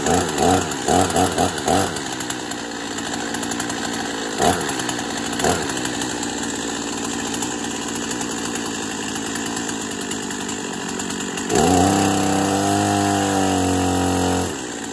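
Husqvarna 50 chainsaw engine revving loud and close, surging in uneven bursts and stumbling as it bogs down from a dirty, poorly tuned carburetor, then settling into a steadier rough run near the end.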